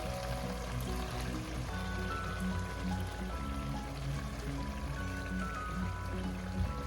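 Water is poured into a pork menudo stew with tomato sauce, a steady, close liquid stream and trickle running without pause.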